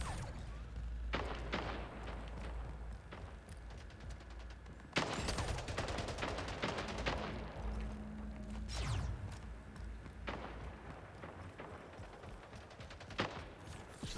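Shotgun blasts in the arena shooter Splitgate, several sharp booming shots at uneven intervals amid other gunfire and game effects, moderately loud against a busy background.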